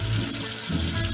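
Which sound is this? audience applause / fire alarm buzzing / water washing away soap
water washing away soap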